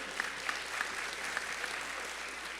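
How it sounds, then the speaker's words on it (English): A conference audience at an agri-business investment forum in Jamaica applauds a panel, a steady mid-sized patter of clapping that runs continuously through the clip at moderate volume. "ask you to give them a round of applause"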